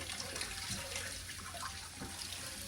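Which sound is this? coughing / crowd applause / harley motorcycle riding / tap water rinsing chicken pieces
tap water rinsing chicken pieces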